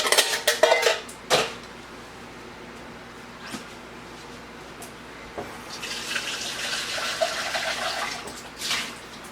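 Juice poured out of a can of pineapple chunks in a kitchen, with clinking of the can and dishes at the start and a running, splashing pour of liquid later, close by and without talk.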